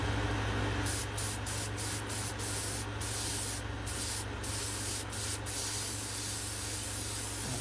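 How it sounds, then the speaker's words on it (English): Purple spray paint hisses from an aerosol can onto a Jason Voorhees latex mask in a long, steady, close spray, broken by several brief pauses and short bursts, with a constant low hum underneath. "It's still spraying up purple."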